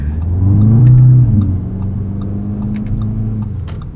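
A 2025 Audi S3 turbocharged four-cylinder engine revs up close with a deep, throaty rumble, swelling briefly then settling into a steady drone, with faint clicks over it.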